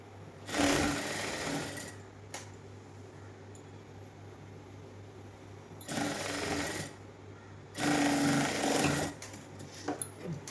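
A sewing machine stitches the neckline of a side-tie nighty frock in three separate loud, rapid bursts, with quiet handling gaps between runs and no talk.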